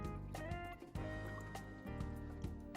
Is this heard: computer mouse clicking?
no